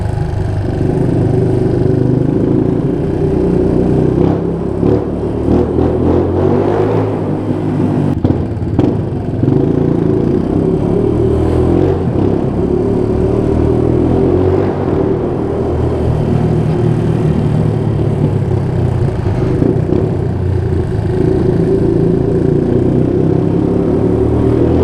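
A loud car exhaust rumbles and braps continuously for about twenty-five seconds, a dense, throaty roar with rapid crackles and small surges, close by and without talk.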